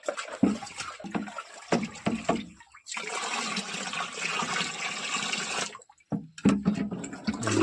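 Powder being stirred into water in a container, with close, uneven sloshing and splashing bursts, a longer continuous swirl in the middle and brief pauses between strokes.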